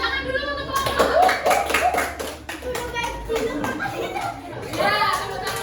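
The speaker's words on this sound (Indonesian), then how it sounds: "Tepuk tangan dulu untuk kelompok." Children in a classroom clap for a group in scattered, uneven bursts, with voices and some chatter running underneath the clapping throughout.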